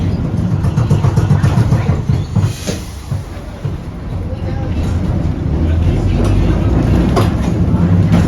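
A J class tram rolling along its track, a steady low rumble with wheel and track clatter close by, ongoing throughout with a brief dip midway.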